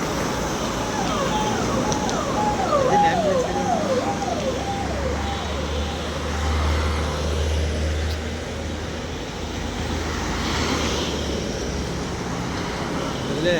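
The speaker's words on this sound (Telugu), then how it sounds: "ట్రాఫిక్" Steady road traffic from passing cars rumbles continuously at moderate loudness, with a low engine drone building in the middle and faint birdsong above, outdoors by a roadway.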